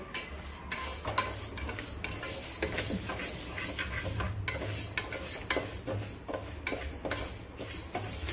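A wooden spoon stirs and scrapes steadily in a cooking pot with a faint sizzle underneath, a quiet, continuous rubbing texture with light knocks and no voices.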